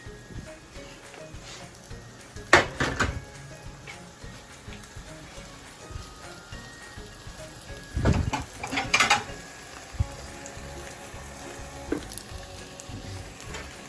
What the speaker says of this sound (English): Our steaks, they're looking really good. They're on a low fire because you don't want them to burn too much.